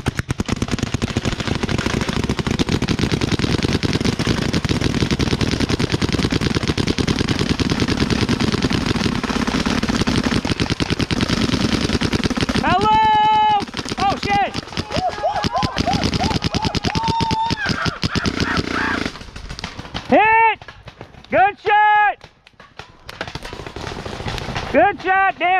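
Rapid gunfire shooting at the walls of a base, dense rattling bursts in the first half giving way to scattered shots, with excited voices talking over it.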